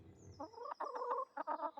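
Chickens in the medieval-set video game Pentiment cluck in a rapid, choppy series of short calls, close and clear against near silence, with a thin high tone running above them.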